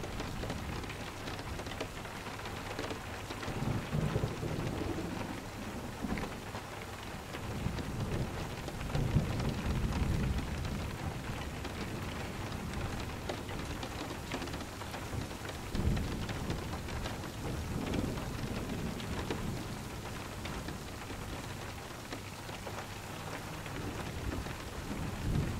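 Steady rain hisses and patters on surfaces through a soft thunderstorm, with low rolls of distant thunder swelling now and then beneath the continuous downpour.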